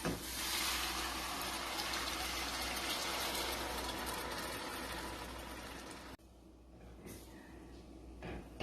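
Broth pours steadily into a pan of shrimp seasoned with white pepper, a loud continuous rushing splash that runs about six seconds, then cuts off abruptly, leaving quieter clatter behind.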